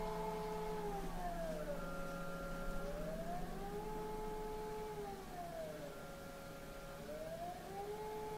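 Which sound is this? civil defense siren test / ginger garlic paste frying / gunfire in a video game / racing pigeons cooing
civil defense siren test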